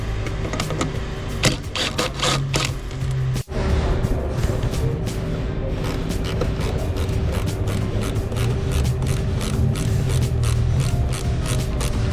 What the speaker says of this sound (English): It's gonna be a couple 10 mils, and then we'll just pull it on out.